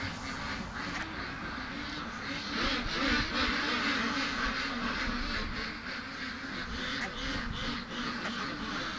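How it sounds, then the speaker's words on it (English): A pair of small ducks quack in a steady, busy stream of nasal calls over a constant noisy background, moderately distant and fairly even in loudness throughout. "These are two trusting ducks."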